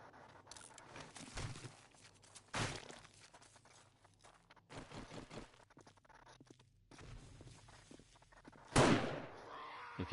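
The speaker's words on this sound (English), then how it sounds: "If you heard that explosion, it's because one of the zombies walked right over the landmine." In a zombie video game, a landmine goes off as a loud, sharp blast near the end, after scattered thuds and bursts like distant gunfire and footsteps.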